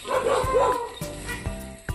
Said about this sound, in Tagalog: Ano yung mga aso, oh.